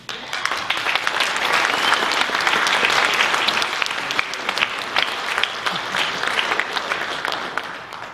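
Sustained applause from a debate audience, dense and steady clapping for several seconds, fading slightly toward the end.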